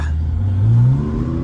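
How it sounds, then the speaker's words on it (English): A Lamborghini with a 5-liter V10 and aftermarket turbos revs briefly and close by, its deep engine note rising and then easing off in a single smooth sweep. "This can't beat the sound of a good 5-liter V10."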